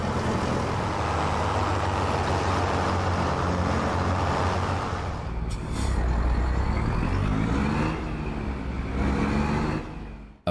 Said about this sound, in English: American Truck Simulator.